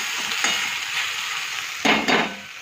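Okra and potatoes with green chilies fry in a pan with a steady, close sizzle, broken by a couple of sharp stirring scrapes near the end.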